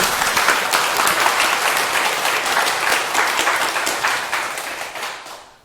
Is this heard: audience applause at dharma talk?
yes